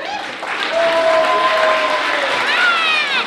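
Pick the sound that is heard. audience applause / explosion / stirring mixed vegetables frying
audience applause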